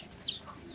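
A chicken in an African village gives a short clucking call, a brief nasal squawk close by over faint outdoor background, lasting under a second.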